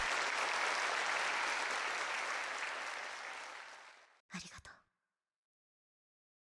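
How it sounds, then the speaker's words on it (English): A dense wave of applause from a large crowd in a video game fills a hall, gradually thinning out before a brief burst of scattered clapping, then silence. "a wave of applause washes over us."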